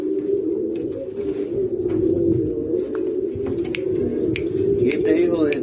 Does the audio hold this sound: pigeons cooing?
yes